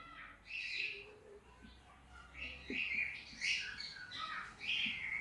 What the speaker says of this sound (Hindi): ये तो पक्षी की आवाज है।